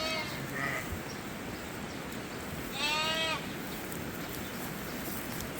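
A bleat from a sheep in a lamb-raising flock, one short harmonic call near the middle and a fainter one early, heard over steady outdoor background noise with no talk.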